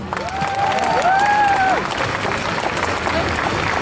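A crowd at an outdoor rally claps steadily throughout, with scattered cheers and voices rising over the dense applause.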